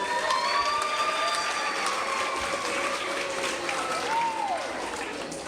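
An audience at a school event gives a sustained round of applause, a dense and even wash of clapping. Some cheering and a few whistle-like tones ride on top, and a voice is heard faintly underneath.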